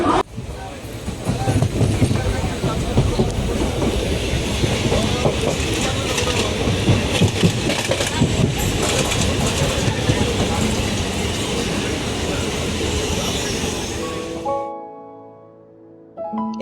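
A passenger train between Bardhaman and Durgapur, West Bengal, rumbles along the rails with a steady clatter for most of the clip, then fades out abruptly into quiet near the end.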